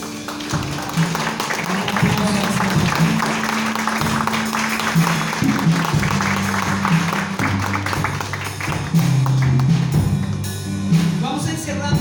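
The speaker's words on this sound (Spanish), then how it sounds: "Si tú fuiste curado el día de hoy, dale un aplauso al Señor." A church congregation applauds for about twelve seconds, a dense, sustained wash of clapping with voices and a low music bed underneath.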